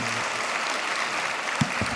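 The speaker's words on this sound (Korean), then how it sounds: "하나님께 영광의 박수를 드리겠습니다" Church congregation applauding after a prayer, a steady wash of many hands clapping throughout, with a brief faint voice near the end.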